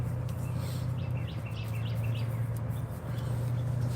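Sparrows chirp outside a McDonald's, several faint short tweets over a steady low hum of engine or traffic noise, the birds sounding a little distant with no talk.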